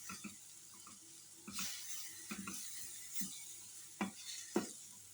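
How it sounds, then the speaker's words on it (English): Pre-boiled bacon and sausages being stirred in a pan: quiet, irregular scraping and clacking strokes with a faint background sizzle, getting a little louder toward the end. "There I have added my bacon and sausages. I'll have to stir."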